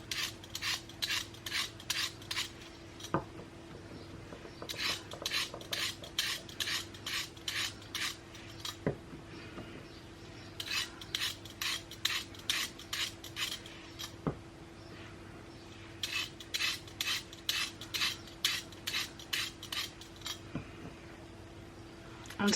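Homemade bath bombs being trimmed, giving bursts of rapid scraping and rasping strokes in repeated clusters with short pauses between, fairly close, over a steady low hum and occasional sharp knocks.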